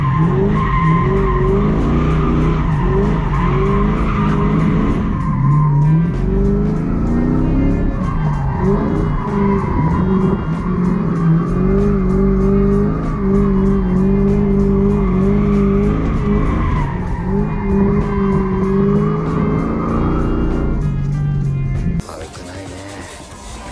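Mustang cars drift with tires skidding and squealing in a long, loud, sustained screech over roaring engines, wavering in pitch before cutting off abruptly near the end.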